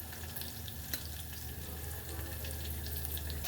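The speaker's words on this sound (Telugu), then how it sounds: "ఇలా ఫ్రై చేసుకోవాలి." Chillies, cumin and mustard seeds frying in a pan with salt, a faint steady sizzle and crackle with occasional small pops, no talking.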